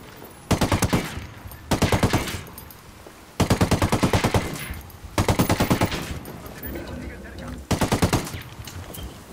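Machine gun fire in a military video game: repeated rapid bursts of loud automatic fire, each lasting about a second, separated by short pauses, with faint background voices.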